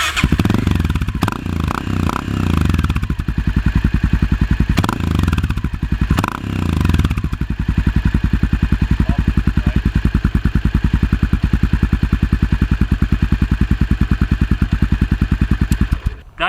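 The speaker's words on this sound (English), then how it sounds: "Now I'm gonna start the bike so you can hear that lovely FMF pipe" A Honda XR650L motorcycle with an FMF exhaust pipe starts up and runs, a few blips of throttle giving way to a steady, loud, close thumping idle until it cuts off at the end.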